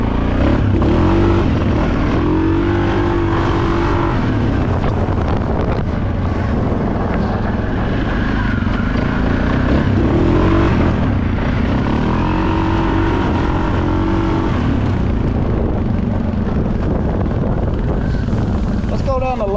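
Suzuki KingQuad 750 ATV engine idling and revving steadily close by, a continuous mechanical drone with rising and falling RPM, while someone talks over it.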